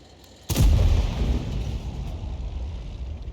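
SU-130PM tank destroyer firing a HEAT round from its cannon in a video game: one sudden, heavy boom after a quiet start, followed by a long, deep rumbling decay.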